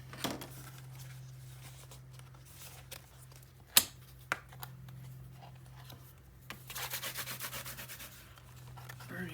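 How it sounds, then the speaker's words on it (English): Cardstock for a Stamperia Brocante Antiques craft panel is burnished with soft rubbing strokes, a faint papery swish with a couple of light taps, ending in a quicker rhythmic scrubbing burst. "Burnish this."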